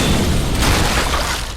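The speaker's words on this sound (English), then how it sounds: "The explosion sends several monsters flying." Explosion of a blazing truck driven into a Titan in the anime Attack on Titan, a loud, sustained booming blast with a low rumble that fills the whole moment and fades slightly at the end.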